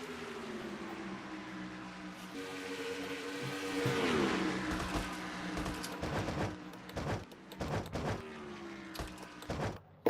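Race cars circling the Nashville track in a sim-racing series, engines droning and rising in pitch as they pass, with sharp bursts of rapid popping and crackling toward the end, no talk.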